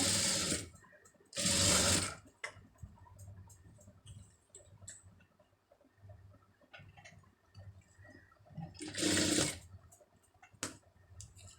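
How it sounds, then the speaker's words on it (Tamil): A sewing machine stitches two-layer lace onto a sleeve in two loud, close bursts of rapid whirring, with quieter handling noises in between. "லேசை இழுக்காமல் லூஸ் கொடுத்து அப்படியே தைங்க"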